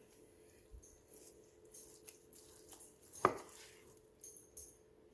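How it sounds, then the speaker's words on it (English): A knife slices tender smoked BBQ brisket on a board, giving soft, faint cutting strokes and light taps, with one sharper knock as the blade meets the board. "Now I'm going to do slices this way."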